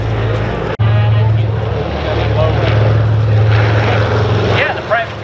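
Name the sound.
B-29 Superfortress bomber flying at air show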